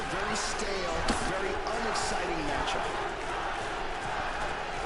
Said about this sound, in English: Crowd here roaring for both of these men.